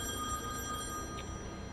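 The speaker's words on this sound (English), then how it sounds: "Oh, great, there's a phone" A telephone rings in The Wolf Among Us video game, a quiet, continuous electronic ring over a low, steady background hum.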